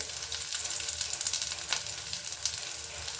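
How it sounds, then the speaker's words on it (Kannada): Garlic, onion and ginger masala for a brinjal curry sizzle steadily in a hot pan, a dense, continuous crackle with a few brief stirring scrapes, close and alone with no talk. "ಇದನ್ನೆಲ್ಲ ನಾನು ಚೆನ್ನಾಗಿ ಹುರ್ಕೊಳ್ತೀನಿ ಬದನೆಕಾಯಿ ಎಣ್ಗಾಯಿ ಮಾಡೋದಕ್ಕೆ"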